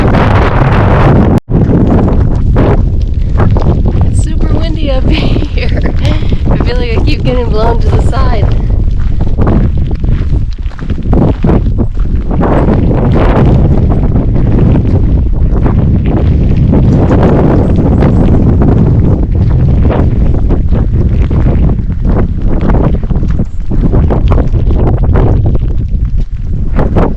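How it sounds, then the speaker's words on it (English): Gusty wind on a mountain along the Appalachian Trail rumbles and buffets the microphone throughout, loud and continuous, with a brief sharp knock near the start and faint voices underneath. "It's super windy up here."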